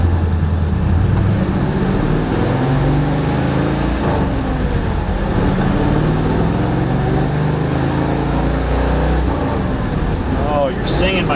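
A 1970 Chevelle SS convertible with a 454 and a Tremec TKX five-speed cruises along, its engine and road rumble forming a steady, fairly loud drone throughout.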